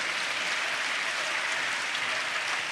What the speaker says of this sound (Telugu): తెచ్చుకున్న వాళ్ళందరూ 2 చేతులు ఎత్తి చప్పట్లు కొడతా యేసయ్యకు స్తోత్రాలు చెప్దాం